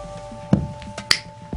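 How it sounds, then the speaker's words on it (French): A single crisp finger snap stands out among a few soft clicks over a faint steady hum in a quiet room. "d'un claquement de doigts"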